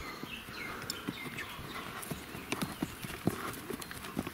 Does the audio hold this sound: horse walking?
yes